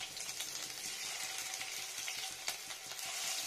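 Mashed spinach fritters fry in hot oil in a pan, giving a steady, close, bright sizzle with small crackles and pops throughout. No one speaks.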